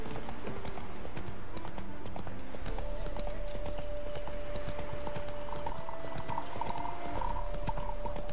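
Hooves of Geralt's horse Roach in The Witcher 3, steady rhythmic clip-clop close by on a path, continuing throughout with a brief snort and soft ambient tones.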